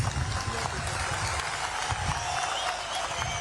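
Crowd applause at a PMK Vanniyar Sangam political conference, a dense, steady wash of clapping from a large gathering that continues without pause throughout, at moderate loudness.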